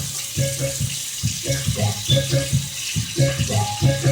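Water runs steadily from a kitchen sink tap while a fork is washed, a continuous close splashing stream with irregular clatter and gurgle running alone throughout.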